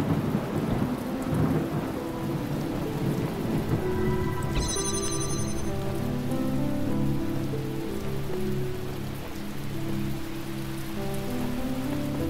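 Rain and rolling thunder from the video game The Talos Principle fill the scene with a steady, dense downpour and low rumbling throughout, plus a brief bright tone partway through.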